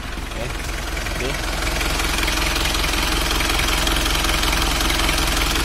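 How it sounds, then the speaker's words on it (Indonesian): An Isuzu Panther 2.3 diesel engine idles with a loud, steady, even drone and a rough vibrating rattle. The sound holds unchanged for several seconds. "Dan memang begitulah mesin diesel, ciri khasnya."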